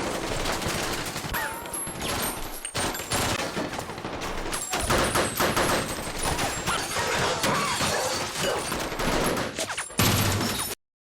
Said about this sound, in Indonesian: 1 jam kemudian, tembakan tiba-tiba terdengar dari luar